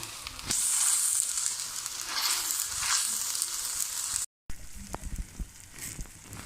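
Onions sizzling in hot oil for Lahori chana, a steady loud frying hiss with crackles that keeps going without a break apart from one brief dropout, with no voices over it.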